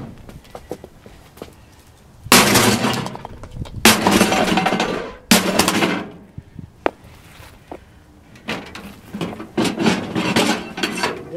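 A sledgehammer smashes a microwave oven in a series of loud, sharp metallic impacts spaced a second or two apart, with crunching and rattling debris between blows, recorded up close.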